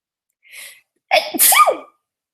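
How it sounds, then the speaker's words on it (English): A single person sneezes close up: a short sharp inhale, a brief pause, then one loud explosive sneeze that trails off into quiet, with nothing else around it. "I think I have to sneeze"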